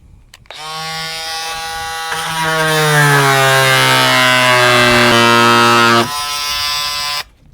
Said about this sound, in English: Let's see if we can cut this apart right here. Brought this little cutter, see how good this does.